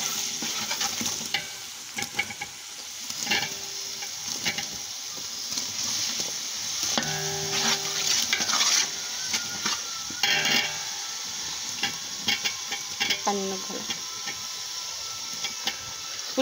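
Cauliflower and potatoes fry with turmeric in a pan: a constant close sizzle broken by scraping stirs and occasional metallic clinks of the spoon against the pan.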